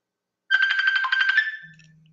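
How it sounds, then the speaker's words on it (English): A phone ringtone sounds for about a second as an incoming call arrives during a live helicopter-talk broadcast, a bright warbling trill that stops abruptly, followed by a low steady hum. "I think Art's dialing in here."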